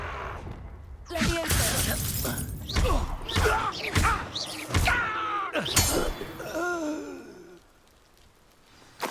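Fiery Confringo spell blasts in Hogwarts Legacy go off as a string of loud, sharp bursts with shattering debris, mixed with character voices speaking between impacts, then fade to quiet near the end.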